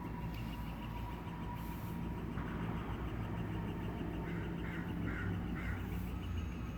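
A bird calls outdoors in a short series of repeated honking, duck-like notes against a steady background hum, with no talking during the calls.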